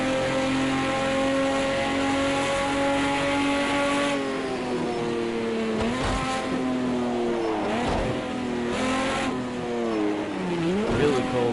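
Race car engine in Project Cars 2 winding up along the back straight on cold tyres, a loud harmonic whine climbing and dropping through gear changes, with brief interruptions and a final rising rev.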